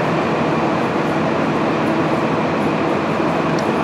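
A two-coach Class 170 Turbostar from Birmingham New Street pulls into Nottingham station, filling the platform with a loud, steady, continuous rumble.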